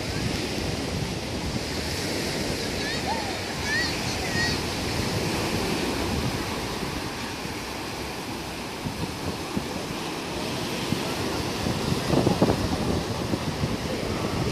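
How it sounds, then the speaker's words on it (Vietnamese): Surf washing steadily onto Bãi Sau beach in Vũng Tàu on a late March afternoon, a continuous broad roar of waves mixed with wind buffeting the microphone, fairly loud and unbroken throughout. "chúng ta cùng đi dạo bãi biển Vũng Tàu"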